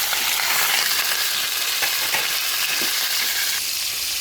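Pork and onion frying in a pot, a steady dense sizzle throughout with faint stirring scrapes and occasional soft clicks, close and fairly loud with no voices.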